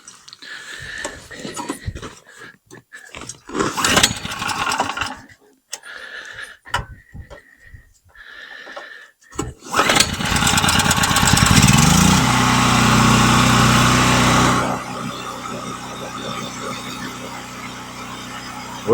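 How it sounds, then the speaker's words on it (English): A Generac-made DeWalt portable generator is started outdoors after several seconds of scattered clicks and handling noises. Its engine catches and runs loudly for a few seconds, then settles into a steadier, quieter running drone that continues to the end. "And this here is made by Generac. It's in with DeWalt. Generac's the one that made this. Okay, now we'll start it."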